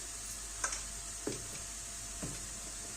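Whole masoor dal masala with chutney fries in oil in a pan, a steady low sizzle running throughout with a few faint ladle taps and scrapes.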